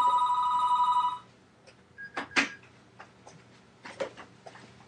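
Telephone ringing with a loud electronic trill for about a second, then stopping, followed by faint clicks and handling noises close by.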